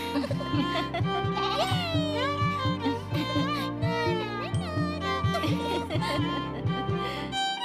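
Sheep bleat in wavering, repeated calls over a steady rhythmic music bed, set in a village folk tale where a girl lives with her mother and a few sheep.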